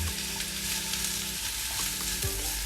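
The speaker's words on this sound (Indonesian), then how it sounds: "Tumis sampai mushroomnya layu dan berwarna kecoklatan." Mushrooms sautéing in a pan for a homemade steak sauce, a loud, dense, constant sizzle heard up close, with a faint steady hum beneath and no voices.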